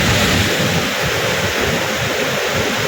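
Big waves breaking on a rough sea, with a loud, steady surf roar close by and wind buffeting the microphone throughout, no voices.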